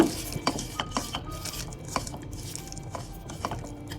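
Raw onion, chili and ghee mixed for potato bharta, a spoon clinking and scraping repeatedly against a metal bowl in an uneven rhythm, soft and close.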